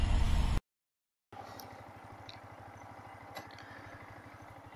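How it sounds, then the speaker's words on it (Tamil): A 2022 Yamaha MT 15 Version 2 motorcycle engine runs at a steady low idle with a faint, even pulsing thrum after a brief cut to silence. "ஸோ நெக்ஸ்ட் இதை நம்ம டிரைவ் பண்ணி வண்டி எப்படி இருக்குன்றத பார்க்கலாம்."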